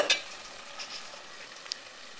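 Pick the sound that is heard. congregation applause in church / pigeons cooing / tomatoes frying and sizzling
tomatoes frying and sizzling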